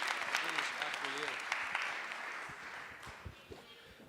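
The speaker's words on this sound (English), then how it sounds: "Round of applause" A conference crowd at a live podcast event applauds guests walking up on stage, a fairly quiet, fading patter of clapping with some voices mixed in.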